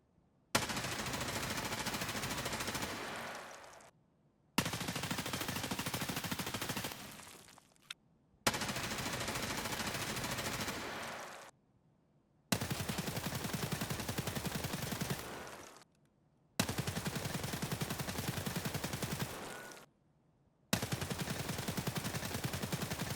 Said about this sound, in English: let's do a quick comparison between the stock M4 and FAL and their recoil counterparts when doing a mag dump at a fairly average distance